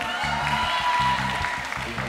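Studio audience clapping on a Ramzan celebrity game show, a short burst of applause over a rhythmic music beat that pulses throughout.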